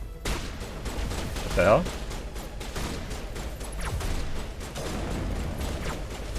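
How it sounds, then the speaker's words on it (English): Gunfire aimed at the player in the Mass Effect video game, a burst of shots over a steady game background, with someone speaking briefly over it. "who's shooting me?"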